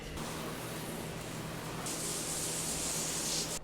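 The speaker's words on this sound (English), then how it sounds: "Once you spray this on the wall, you want it to penetrate for 10 to 15 minutes" Steady hissing spray of wallpaper remover onto a scored wall, continuous and close, growing brighter and louder in its second half.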